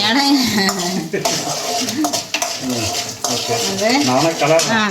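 Food being stirred in a cooking pot for a home blood fry, with clanking metal utensil scrapes against the pot and a faint sizzle under continuous talking.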